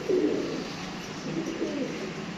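Pigeon of the Sebe breed cooing steadily in a low, throaty murmur, close and fairly loud, with repeated rolling coos over about two seconds and no talk.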